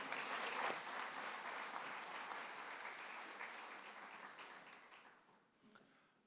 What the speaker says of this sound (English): Let's give a thunderous, thunderous applause.